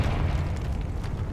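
Confringo explosive spell in Hogwarts Legacy, a short, loud, rumbling boom with dense low-end roar that fills the whole brief moment, no voices.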